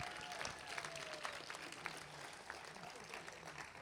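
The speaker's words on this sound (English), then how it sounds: "Nice round of applause for him, please." Applause from a gathered audience at a college athletic hall of fame induction ceremony, steady and moderately distant, with a murmur of crowd voices mixed in throughout.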